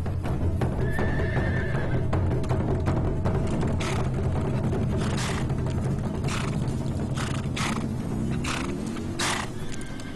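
Horses whinny and neigh repeatedly over a busy outdoor din on the grasslands of Hexigten, China, with hoof clatter and a herd moving about nearby.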